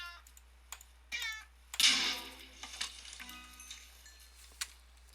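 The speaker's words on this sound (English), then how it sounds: "That sounds like someone's pet cat." A pet-like cat mob from the Minecraft Advent of Ascension mod meows several times in short, sharp bursts, one louder cry standing out, alongside faint clicks and ticks in an otherwise quiet game setting.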